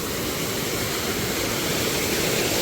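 A waterfall pours over rocks in a steady, dense roar. It is loud and continuous with no voices.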